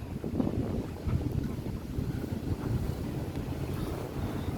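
A speedboat towing a parasailer at sea off Pattaya Beach, a low steady engine rumble blended with heavy wind buffeting and lapping water, continuous and moderately near.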